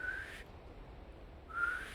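Soft whistling of a slow, somber tune in an empty building, two sustained notes separated by a second of near silence, quiet and close over low hiss.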